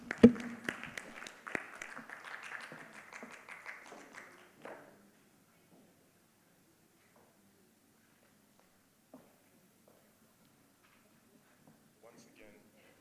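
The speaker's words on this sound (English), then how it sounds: "a massive round of applause once again, ladies and gentlemen, for that panel" Audience applause for a panel at a conference on remote and blended work, a dense burst of clapping for about four seconds that ends abruptly, followed by near silence with a few faint taps.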